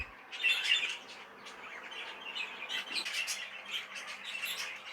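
Budgies and other small birds in an aviary flight squawk and chirp in a busy, overlapping chorus, with sharp close calls standing out above a steady backdrop of twittering.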